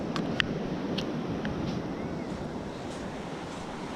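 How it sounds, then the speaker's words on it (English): Ocean surf at the Old Orchard Beach sandbar in Maine as the tide comes in: a steady, broad wash of waves with wind buffeting the microphone and a few faint distant clicks and calls. "The waves are coming in, tide's coming in, and we are at the sandbar."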